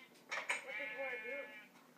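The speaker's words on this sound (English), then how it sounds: "I wanted to dye a sheep brown" A sheep in a video game, Minecraft-style, gives a short wavering bleat that lasts about a second and rises and falls in pitch, heard close and fairly clear.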